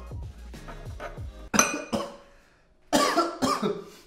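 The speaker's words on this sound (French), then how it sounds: "Ça me fait carrément tousser tellement que je sens l'acidité." A person coughs several times after tasting sharp malic acid mixed into sugar, harsh close coughs in two clusters with a light clink of kitchenware early on.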